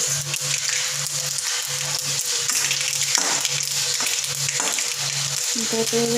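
Spices sizzling in hot oil while frying, a loud, steady crackling hiss close by with a faint repeating low hum underneath and no talking.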